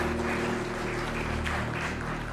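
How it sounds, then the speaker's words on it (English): An audience at a hospital stroke symposium applauds, a dense, steady clatter of many hands clapping that fills the stretch without pause and with no voices over it. "Can we have a huge round of applause for Dr. Amit Gupta?"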